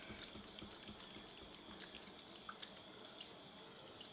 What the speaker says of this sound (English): So I'm just gonna put this hose on and it's hopefully on low pressure.